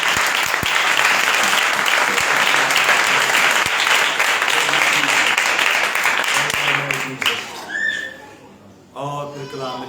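A church congregation gives loud, sustained applause with some whistles and cheers, then the clapping fades and a voice begins speaking.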